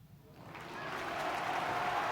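Studio audience cheering and clapping, swelling up from quiet over about a second into a sustained, moderately loud roar.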